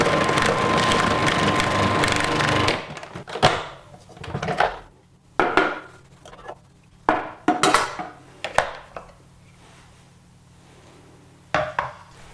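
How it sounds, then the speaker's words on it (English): Knife slicing de-seeded jalapeno peppers on a board after a food processor with a slicing disc stops, giving a run of separate, close, crisp cuts and knocks with pauses between. "Now take 4 jalapeno peppers, de-seed them and slice."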